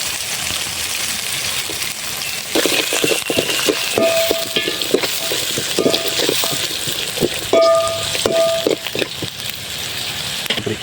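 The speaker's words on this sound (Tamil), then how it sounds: "இப்போ நறுக்கி வச்ச வெங்காயத்தை நூறு சின்ன வெங்காயமும் நறுக்கி வச்சுருக்கோம் உள்ளே சேர்த்துக்கோ" Chopped small shallot onions dropped into a hot pan sizzle and crackle steadily, with occasional stirring and scraping sounds, close and fairly loud with no talking.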